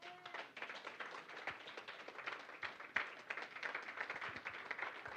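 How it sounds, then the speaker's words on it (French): A church congregation applauds together, a faint, steady patter of many hands clapping through the whole stretch with no voices on top. "Si on peut applaudir le Seigneur."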